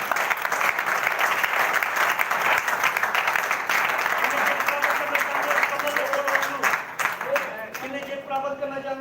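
A church congregation clapping together in worship, a steady, dense wash of applause sustained for several seconds with voices heard over it, thinning out toward the end.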